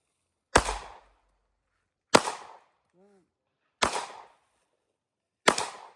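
Four sharp pistol shots fired weak-handed at targets on an outdoor shooting course, evenly spaced about every second and a half, each with a short decaying echo, with a faint beep between shots.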